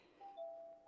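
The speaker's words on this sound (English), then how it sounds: "Oh, that's my doorbell." A home doorbell chimes two soft, overlapping ringing tones, faint and at moderate distance.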